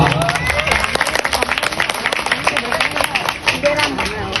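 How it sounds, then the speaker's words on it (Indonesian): An audience at a Sundanese wedding celebration sermon applauds students, with dense, steady clapping from a crowd throughout, loud and close, with some voices mixed in. "Tepuk tangan untuk mahasiswa."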